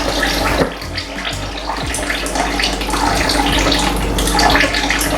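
Water pours steadily out of a drained Ford 302 V8 engine and splashes into a container, a constant rushing gush with a few heavier splatters along the way.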